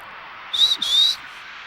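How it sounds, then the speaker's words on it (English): A person attempts to whistle, producing two short, breathy, slightly rising whistle tones in quick succession, close and fairly clear over a quiet room background. "I can make a whistle sound, but I can't really whistle."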